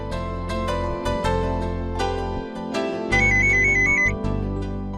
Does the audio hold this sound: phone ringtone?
yes